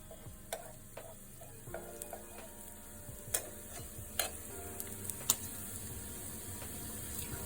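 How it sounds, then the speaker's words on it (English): Vegetables cooking in a pan with a faint, low sizzle and quiet, irregular clicks and scrapes as they are stirred, no talking. "Keep stirring the vegetables."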